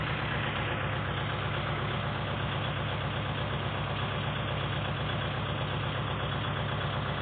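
A truck or car engine runs steadily with a dense, constant low rumble and rough knocking texture during a push-start attempt on a dead battery. It sounds close and loud, with no break and no voices.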